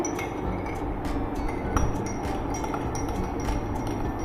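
A glass clinks steadily as tamarind and plum sharbat with chilled water is stirred, a run of bright repeated taps at a quick, even rhythm, close by over a constant low hum, with no talking.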